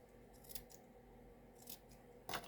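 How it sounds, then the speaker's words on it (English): A few quiet, separate snips of scissors through paper, faint at first, with a sharper, louder cut at the very end. "then I'm going to use my scissors for the end here"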